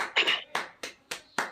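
During an online Zoom meeting, a handful of sharp hand claps sound close to the microphone in a steady rhythm, about five in quick succession.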